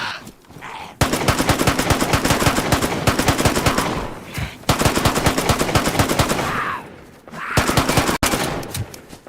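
Sustained automatic gunfire in a PVP zombie survival game, rapid continuous bursts loud and close, broken by brief pauses before firing resumes.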